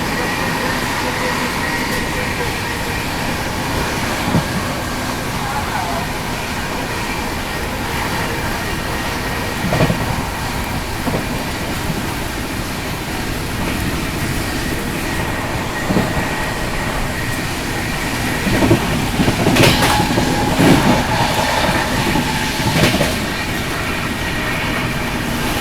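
The Vikramshila Express running along Indian railway track, a loud, continuous rumble of coaches and wheels with intermittent clatter and rattling bursts, heard from on board throughout.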